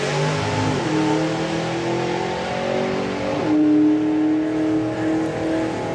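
A little Hemi-engined hot rod on a drag strip revs hard and accelerates, its engine pitch climbing through gear changes in two clear upward sweeps, loud and close, with no voices.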